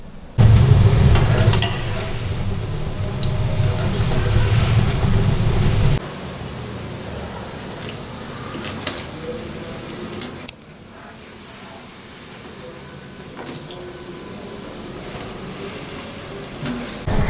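Pakoras for kadhi frying in hot oil, a loud steady sizzle that drops and quiets midway as the batter settles, continuing as a softer crackling hiss with no talking.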